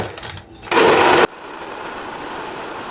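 Blender briefly running to mix a watermelon and strawberry frozen drink, a loud half-second whir that starts and cuts off abruptly between quieter handling sounds.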